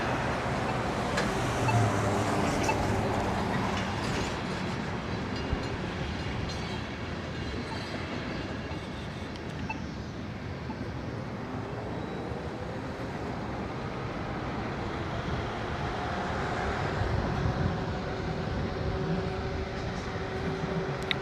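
Knobby tread tires rolling along a road, a continuous rumbling hum with a faint rhythmic clatter that swells slightly near the end, steady and moderately quiet with no talk.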